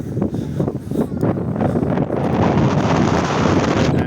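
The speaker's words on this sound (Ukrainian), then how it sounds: "З мінусів, як ви чуєте, вітер" Gusty wind on a sunny day in Lviv buffets the microphone with a loud, rough roar that rises and stays strong; no talking.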